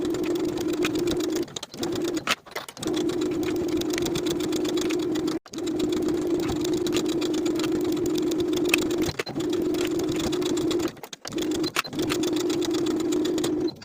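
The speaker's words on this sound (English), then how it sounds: "Sew the outer edges together with a 3/8 inch seam allowance." A sewing machine runs in long bursts with short pauses, stitching the outer edges of a curved collar at a 3/8 inch seam allowance, a steady close hum.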